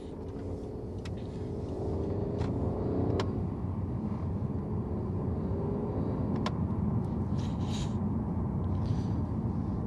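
A very low Honda Civic saloon with a 7-speed gearbox rolling over a speed bump, heard from inside as a steady loud engine and road rumble with a few faint knocks and creaks, with no talking.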